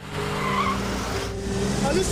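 A car in a film scene skids to a stop, giving a sustained tire squeal over a dense, steady roar of engine and road noise that runs through the whole moment, with some faint voices mixed underneath.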